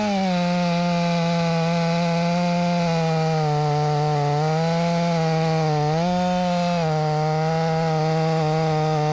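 A Stihl 500i chainsaw cuts a hinge into a pin oak, its engine holding a loud, steady high-revving drone that dips briefly in pitch twice as the chain loads in the wood.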